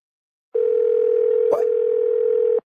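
A telephone dial tone heard after a call is hung up: one steady, loud, unbroken tone that starts abruptly and stops abruptly about two seconds later, with a brief click partway through.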